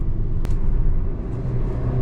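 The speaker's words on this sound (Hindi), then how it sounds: "गाड़ी ने एकदम 6th गियर से 3rd गियर पे डाउन शिफ्ट किया, एक्सेलरेट किया, इंजन वोकल हुआ।" A Kia Seltos X Line engine revs hard after a sudden downshift from sixth to third gear, a steady loud rumble heard from inside the car with no voices.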